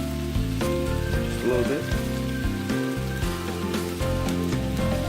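Seasonings such as onion powder sizzle and pop in a hot pan for Caribbean-style fish and rice, a dense continuous crackle beneath a voice and background music.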